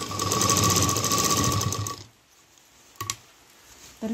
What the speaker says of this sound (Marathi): पुन्हा आता शिलाई मारून घ्यायची